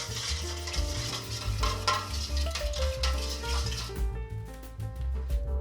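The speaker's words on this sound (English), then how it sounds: "And we're just going to mix it all in for about a minute." Whole wheat artisan bread dough of flour, sugar, kosher salt and warm water being stirred in a bowl, a steady scraping, churning sound running continuously under background music.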